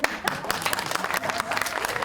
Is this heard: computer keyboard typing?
no